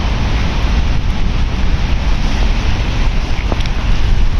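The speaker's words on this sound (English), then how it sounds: "it is quite windy" Strong wind during the first snowfall in Moscow roars continuously and loudly across the microphone, a dense, gusty rumble with no clear breaks.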